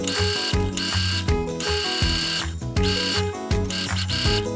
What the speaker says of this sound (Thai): ต่อมาก็จะเย็บชิ้นที่ 3 ต่อกัน